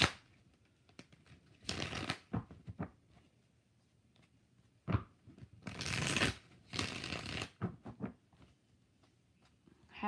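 Tarot cards are riffled and shuffled in several quick bursts, crisp close fluttering rasps separated by short quiet pauses.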